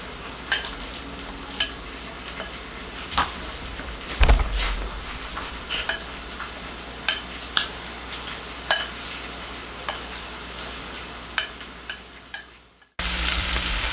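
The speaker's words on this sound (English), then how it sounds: "now I'm just going to saute the garbanzo beans in with the rest of the vegetables" Garbanzo beans and vegetables sautéing in a pan for vegan rasta pasta, a steady sizzle with intermittent stirring clicks and scrapes of a utensil against the pan, close and continuous, ending with a brief burst of louder noise.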